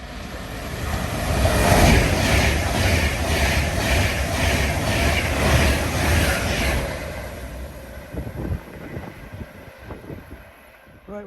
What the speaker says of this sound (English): Avanti service heading north.